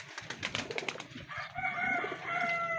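Pigeons kept as breeders in a loft coo steadily for nearly three seconds, soft and close, with bird calls and faint rustling beneath the low murmur.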